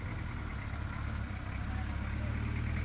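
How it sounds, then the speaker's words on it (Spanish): A car approaches on a quiet rural road in El Salvador, heard as a faint, steady low engine rumble with road noise that keeps a constant level for about three seconds. "Ahí viene otro carro."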